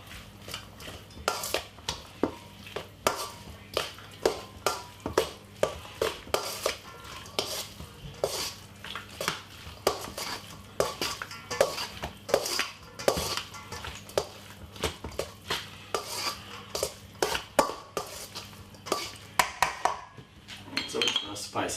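Leftover pasta salad tossed in a bowl with a utensil, rapid rhythmic clinks and scrapes repeating for a long stretch, close and fairly loud against a quiet room.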